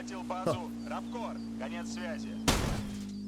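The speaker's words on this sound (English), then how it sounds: "They're now using rockets." A rocket blast in Arma Reforger: one sudden, loud explosive burst rings out near the end, after someone talks over a steady engine-like hum.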